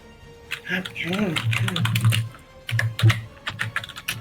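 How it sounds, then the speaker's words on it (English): Loud clacking on a computer keyboard during an online tabletop role-playing session, with quick bursts of keystrokes near the microphone. A voice is speaking at the same time. "all you guys have to listen to my loud typing"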